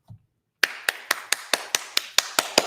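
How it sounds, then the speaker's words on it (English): Steady, even hand claps, about ten sharp close strikes at a quick regular pace, follow a short moment of near silence. "Clapping. Clap, everybody."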